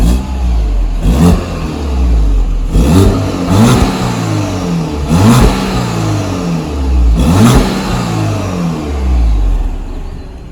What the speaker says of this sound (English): So I'll quickly give you guys the before revs